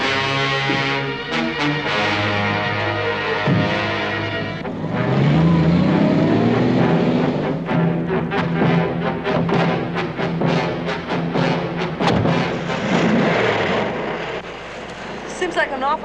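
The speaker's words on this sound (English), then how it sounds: "Sounds like my motor being revved up" A car motor revs up loudly and roars through a series of accelerating bursts, then fades toward the end, with voices and other sounds mixed in around it.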